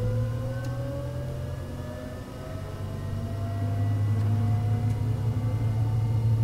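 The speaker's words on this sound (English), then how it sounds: "So we're going to start the right engine." The right turbofan engine of a Learjet 35A starting up in a flight simulator: a steady low drone with whining tones that slowly climb in pitch as the engine spools up, growing louder toward the end.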